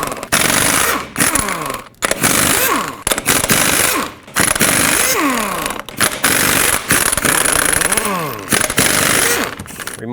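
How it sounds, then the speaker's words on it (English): An impact wrench removes the lug nuts from a Ford F-250 front wheel with a 21mm socket. It gives loud, sustained buzzing rattles in repeated bursts, each one ending with a falling whine as it spins down, with brief pauses between bursts. "And now with a 21mm socket, remove all 8 of your lug nuts,"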